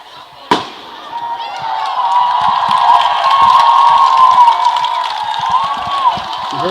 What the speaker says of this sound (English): Someone just set off fireworks in a nearby house to Pius.